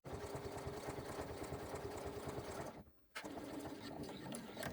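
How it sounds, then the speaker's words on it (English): A sewing machine stitches a crossbody bag along a top-stitch line, running with a steady fast mechanical whir and rhythmic needle chatter, briefly stopping near the end before resuming. "I'm sewing down the same stitch line as we made when we did our top stitching."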